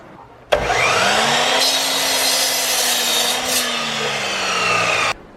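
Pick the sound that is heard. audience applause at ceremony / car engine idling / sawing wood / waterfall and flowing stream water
sawing wood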